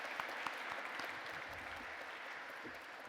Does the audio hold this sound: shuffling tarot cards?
no